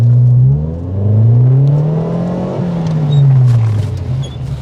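A car brakes hard and turns during stunt driving practice, a loud close engine drone that dips and rises in pitch with tyre whir through the manoeuvre, no voices.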